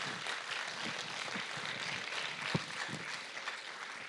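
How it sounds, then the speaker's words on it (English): An audience at the REELise film festival grand final, held in a VMAX cinema, claps steadily in a soft wash of applause with a few louder isolated claps. "Round of applause."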